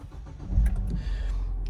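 A Ford Fiesta ST3's 1.6 turbo engine starts by push button, with a short cranking burst that catches into a low, steady idle rumble, close and clear with no talk.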